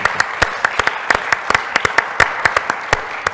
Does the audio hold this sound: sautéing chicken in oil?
no